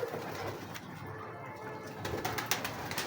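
Black-faced high flyer pigeons coo softly amid a noisy loft, with the low calls faint and partly masked by steady background clatter.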